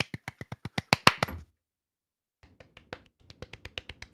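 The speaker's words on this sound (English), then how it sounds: "Everybody clap." A small group claps in two quick bursts, a dozen crisp sharp claps close up, then a pause and a fainter, sparser round of claps.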